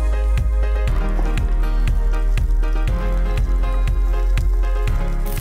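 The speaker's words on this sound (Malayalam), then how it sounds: "ഒരു സ്പൂൺ എണ്ണ ഒഴിച്ചിട്ട് പച്ചമുളക് വഴറ്റിയെടുക്കാൻ പോവാണ്" Green chillies fry in a spoonful of hot oil in a pan, giving a steady close sizzle with a regular rhythm of louder crackling bursts about every half second; no one speaks.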